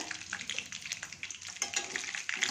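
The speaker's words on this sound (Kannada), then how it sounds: "ಎಣ್ಣೆ ಕಾದಿದೆ ಇವಾಗ ಒಂದು ಮೂರು ಸ್ಪೂನ್ ಕಡಲೆಕಾಯಿ ಬೀಜ ಹಾಕ್ತಾಯಿದ್ದೀನಿ ಇದೆಲ್ಲ ಸ್ವಲ್ಪ ಚಟಪಟ ಅಂತ" Peanuts fry in hot oil in a pan with a steady, fairly quiet crackle and sizzle, small pops rising and falling throughout.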